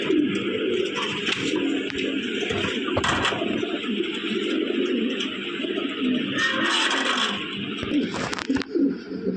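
A pair of black Lahori pigeons coo softly and repeatedly in a loft amid faint background noise, with low, throaty calls recurring throughout.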